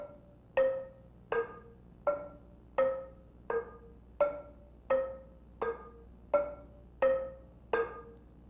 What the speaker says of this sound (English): The three notes are played four times for a total of 12 notes in the sequence